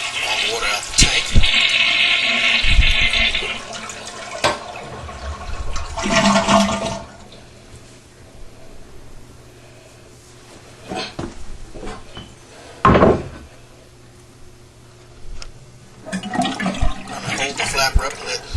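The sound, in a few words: toilet flushing, draining water from tank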